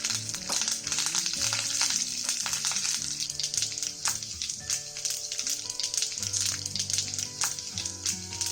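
Dried red chillies and fresh curry leaves spit and crackle in hot oil for a Kerala-style tadka, a steady close sizzle with sharp pops scattered throughout and no talking.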